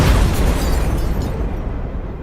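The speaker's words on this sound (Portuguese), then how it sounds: "Uma explosão gigantesca que chega a arrastar o terreno e jogar escombros para todo lado." Giant explosion in a post-apocalyptic setting that tears up the ground and flings debris, a loud low booming rumble that starts at full force and slowly rolls off with crackling debris.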